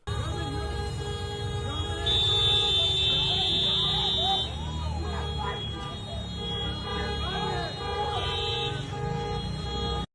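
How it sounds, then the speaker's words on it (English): Car horns blare in traffic, with one long sustained honk and a shorter honk later, over a busy bed of street noise and indistinct background commotion. "vicious citizens honking their horns at people holding up traffic"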